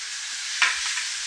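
Mint and coriander leaves frying in a pan for chicken green masala, a steady broad sizzle with a brief louder burst as the leaves are stirred, close and alone without talk.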